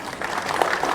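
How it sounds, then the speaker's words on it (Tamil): Audience clapping at an Arangetram dance function in Bharatiya Vidya Bhavan, a short burst of crowd applause. "அவங்களுக்கு ஒரு பெரிய கைத்தட்டல்."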